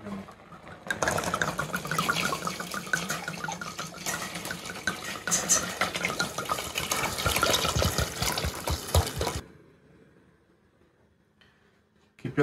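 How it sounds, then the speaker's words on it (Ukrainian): Wine pours steadily into a pot of honey syrup for several seconds, a loud splashing gurgle that stops abruptly near the end. "Заливаємо вино."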